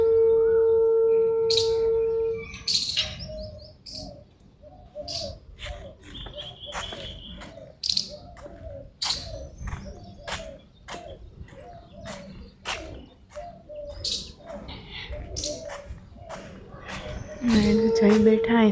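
Birds chirp and call near a temple during rainy weather, sharp repeated tweets scattered throughout at close range, with soft cooing and a low background hum beneath.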